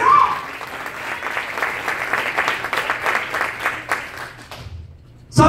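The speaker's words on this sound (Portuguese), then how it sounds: "Aplauda mais forte ao Senhor" A church congregation applauds loudly during a family worship service, a dense, steady wash of many hands clapping for several seconds before it stops abruptly near the end.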